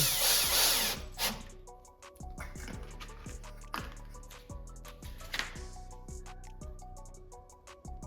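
A power drill drives sheet metal lath screws during a track build, with repeated short whirring bursts that rise and stop between brief pauses and clicks, close and fairly loud, with no talking.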